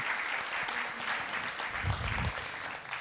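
An audience applauds Françoise at an indoor event with steady, moderately loud clapping that swells slightly in the middle, plus a few faint voices in the crowd.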